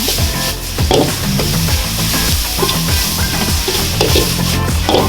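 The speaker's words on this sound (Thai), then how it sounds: "ผัดให้แห้งนะครับ" Beef curry made with fattened beef and long-pepper curry paste is stir-fried in a pan, a loud, continuous sizzle broken by repeated spatula scrapes and clatter, close and steady with no talking.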